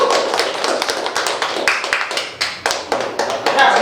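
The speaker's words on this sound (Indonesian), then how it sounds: "Tepuk tangan dulu" A classroom of students claps their hands together, a quick uneven patter of many close claps with sharper bursts, and no voices over it.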